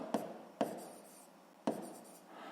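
Three separate pen strokes on paper during a sixth-grade maths exercise, each a short scratchy burst, close and fairly quiet, with brief pauses between them and no talk.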